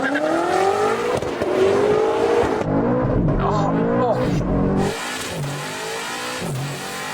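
A BMW G90 accelerating hard in a drag race, its engine revving loudly and climbing through rising pitches with a brief gear-change break, while people talk and shout excitedly over the roar.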